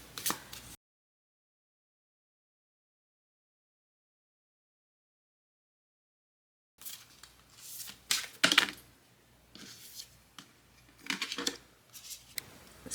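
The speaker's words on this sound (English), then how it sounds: "I'll just shuffle the cards lightly in my hands and then see which cards fly out." Tarot cards shuffled lightly by hand, soft papery riffles and flicks coming in short uneven bursts, quiet and close, after a long stretch of silence.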